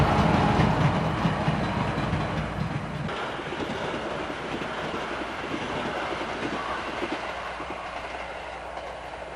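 A train runs along a Dutch railway line toward Enkhuizen, with a loud, steady rumble and rhythmic clatter of wheels on the track. It is close and continuous throughout, with no talking.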